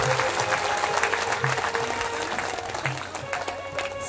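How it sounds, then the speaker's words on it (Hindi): Applause from a devotional gathering welcomes the performers of a Raslila at a Bhagavat Katha in Jugiya village, a steady dense wash of clapping with crowd noise and a faint tonal hum underneath. "तालियों से भी स्वागत करना होगा।"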